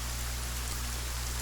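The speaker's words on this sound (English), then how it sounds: "But oh, it's raining now." Steady rain falling in the survival video game Sons of the Forest, a continuous even hiss with a low hum beneath, heard alone with no talk.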